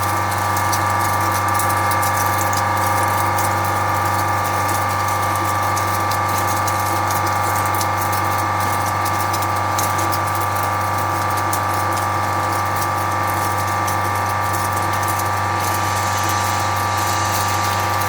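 A flake ice machine rated at 5 tons per day with a 25HP compressor runs steadily, a loud constant mechanical hum and drone with a hissy upper layer and no pauses or speech.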